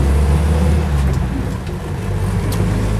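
A 1973 Land Rover Lightweight engine runs steadily, a low continuous rumble that stays close and loud for the whole stretch with no voices.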